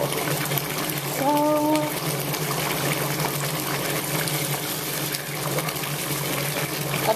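Water runs steadily into a bathtub being filled halfway for a bath, a continuous rushing pour lasting throughout, with a brief faint tonal sound early on and no talking.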